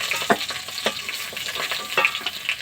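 Fish frying in hot oil in a pan at home, a dense crackling sizzle close by with several sharp spatula clacks and scrapes spaced through the short stretch.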